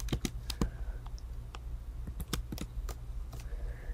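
Close, quiet typing on a computer keyboard, irregular bursts of crisp key clicks with short pauses, over a faint low hum and no talking.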